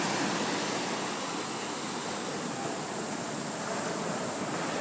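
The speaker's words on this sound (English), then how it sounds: "Watch the waves overtake the tiny people." Ocean surf on a Costa Rica beach under turning, stormy weather roars as a steady, broad wash of breaking waves, continuous and fairly loud without pause, with no voices.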